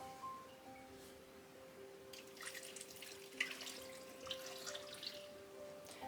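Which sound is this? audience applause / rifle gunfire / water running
water running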